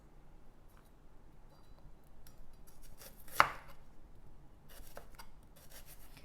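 Knife slicing an onion into rings on a cutting board, a sparse string of quiet cuts with one sharper, louder chop near the middle and a few faint crisp slices after it.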